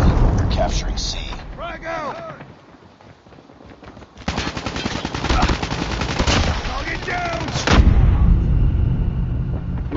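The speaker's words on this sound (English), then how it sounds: "Hostile predator missile inbound." Call of Duty: Mobile battle audio: heavy bursts of rapid gunfire, then loud booming impacts from a predator missile strike around the midpoint and again near the end, with a voice talking over the din.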